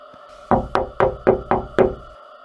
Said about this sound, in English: he knocked on my window. Not a gentle knock, but a heavy, deliberate thud-thud